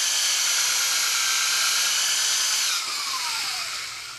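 Rotocork tool spinning at low RPM against a ski base, a steady high whirring drone that drops in pitch and fades slightly toward the end, close and alone.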